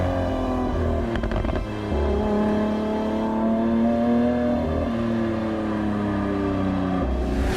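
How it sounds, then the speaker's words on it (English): A Lamborghini Aventador SVJ engine revving hard, a loud rising and falling howl with clear harmonic tones climbing through the rev range, briefly dipping between gear changes, heard from inside the car with no talk. "It's biblical, the sound that comes out of this car."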